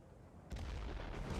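Trench mortar fire in a World War I Western Front strategy game erupts as a sudden, dense rumbling barrage. It starts abruptly and then holds steady as a heavy, continuous roar.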